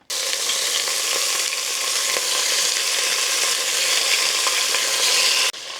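Pork riblets browning in about a tablespoon of hot, lightly smoking avocado oil, giving a loud, continuous close sizzle that holds steady, then cuts off abruptly near the end.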